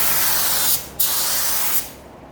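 A spray gun lays the first coat of clear onto small parts from a 1976 Trans Am, in two loud, close, sustained hissing passes separated by a brief pause.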